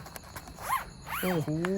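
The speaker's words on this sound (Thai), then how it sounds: "มีซิปสองซิปนะครับลื่นไหมนี่ซิปแบบนี้นะครับ" Someone works a zipper on a fishing rod storage bag, giving a quick rasping pull. Someone speaks briefly over it and under it in a short, close burst.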